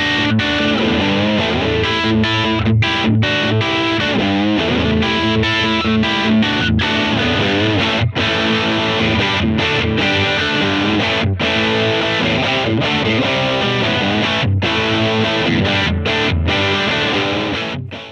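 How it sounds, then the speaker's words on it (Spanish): An electric guitar plays through a Blackstar Artisan amplifier with a crunchy British classic rock tone, loud and continuous with distorted chords and riffs, heard alone without any voices. "Su versión Artisan cuenta con un estilo mucho más británico que nos permite conseguir tonos de rock clásico al más puro estilo"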